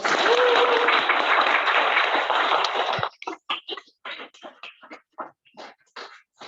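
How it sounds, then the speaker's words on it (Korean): Applause from a seated audience after a lecture, dense steady clapping for about three seconds that then breaks off into scattered, sparse claps as it dies away. "다시 한번 박수 한번 부탁드리겠습니다"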